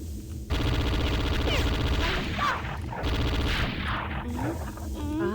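Rapid enemy gunfire rattles in bursts through Redneck Rampage combat, mixed with warbling alien sound effects and chirps, someone talking over parts of it.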